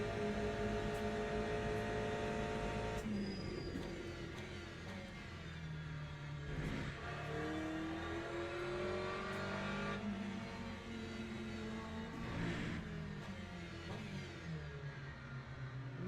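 GTE race car engines at Portimao in Le Mans Ultimate, loud and close, revving up and down through gear changes with pitch rising and dropping over a steady engine roar, no talking.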